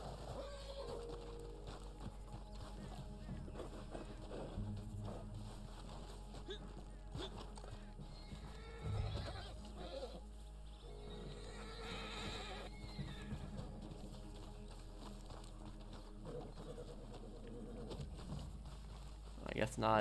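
A horse in Red Dead Online whinnies and its hooves clip-clop in a quiet, low-level game scene, with speech passing faintly over the top.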